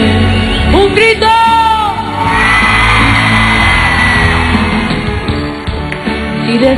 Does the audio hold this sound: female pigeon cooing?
no